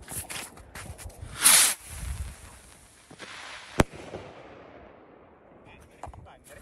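Firework rockets going off on the ground outdoors, with a loud burst followed by a sharp crack and scattered smaller pops, and voices nearby.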